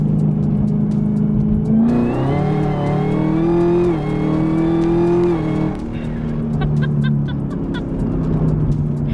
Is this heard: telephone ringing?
no